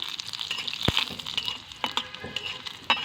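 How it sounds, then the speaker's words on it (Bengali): Garlic, a split dried red chili, nigella seeds and five-spice tempering being stirred in hot oil, with soft sizzling and a few sharp scrapes and taps of the spoon on the pan, fairly quiet and steady. "কালো জিরে আর পাঁচ ফোড়ন এবার আমি দিয়ে দেবো দুই মিনিট নাড়াচাড়া করে নেব"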